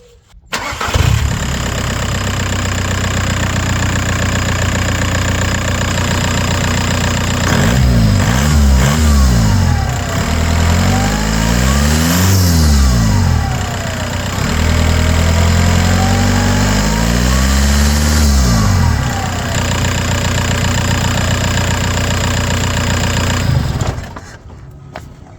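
A VW Passat B3 with a PD150 TDI diesel engine cranks over and catches, then settles into a steady, loud idle with a few brief rises in revs.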